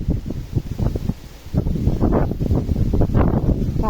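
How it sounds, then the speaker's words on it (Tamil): Strong wind gusting through a green chili field, a steady broadband rush with rustling plants, loud and continuous throughout with rising gusts toward the middle and end. "காற்று ரொம்ப அடிக்கும், ஆடுது."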